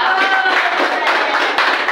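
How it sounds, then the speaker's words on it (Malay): A classroom of students claps their hands together, a brief burst of brisk, fairly close clapping with a few sharper accents near the end. "Tepuk tangan untuk mereka."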